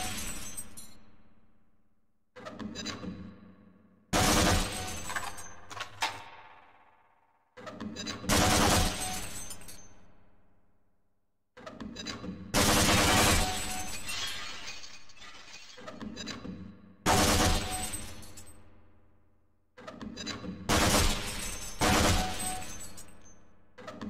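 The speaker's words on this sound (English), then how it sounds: "To fire your grenade launcher, use your alternate fire button. Certain targets will break only when hit by grenades." Grenade launcher firing in Half-Life's Hazard Course target range, with repeated loud blasts and the crash and shatter of breaking glass targets. The bursts come in separated groups and each one rings out and fades.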